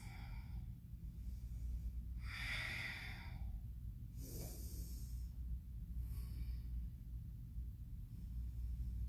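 Deep, slow breathing during a yoga session, long airy inhales and exhales rising and falling over a steady low room rumble, fairly faint and unaccompanied by speech.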